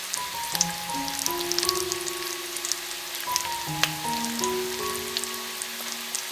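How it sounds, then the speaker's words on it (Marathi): Chivni fish tawa-frying in masala gives a soft, continuous crackling sizzle at low volume beneath a simple melodic music track. "अशा प्रकारे चिमण्या मस्तपैकी फ्राय करून घ्यायच्या आहेत"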